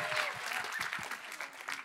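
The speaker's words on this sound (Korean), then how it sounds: "박수 주세요" Short burst of audience clapping at a church gathering, moderately loud and fading slightly, with faint voices mixed underneath.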